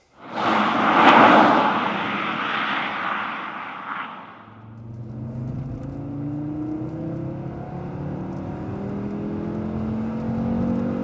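Volvo C70 with a five-cylinder engine, heard from inside while driving: a loud, steady engine drone with rising rev harmonics, preceded by a few seconds of broadband rush, continuing without any talk.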